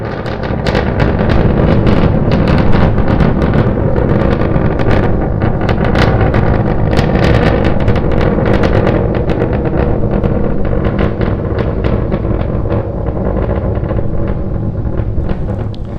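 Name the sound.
SpaceX Starship SN9 rocket engines during test flight climb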